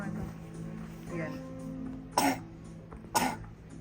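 Two short, sharp coughs about a second apart, fairly close, over a steady low hum with soft background voices.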